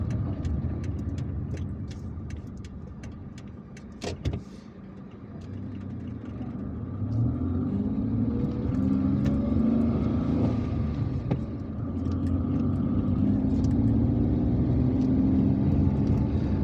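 Interior road noise from a car driving through the streets of central Algiers, a steady low rumble that swells as it picks up speed, with a faint knock partway through and no talking.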